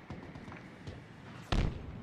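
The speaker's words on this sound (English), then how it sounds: "that was a perfect grenade, only if he was actually there" A single sharp grenade blast in Halo Infinite multiplayer, brief and fairly loud, standing out from quiet background game sounds near the end.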